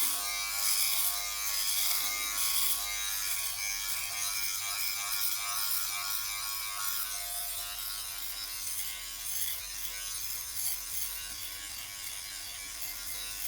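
A Philips Body Groomer 7000 (BG74 series) electric shaver buzzes steadily up close, its pitch and loudness wavering with continuous back-and-forth strokes across the skin.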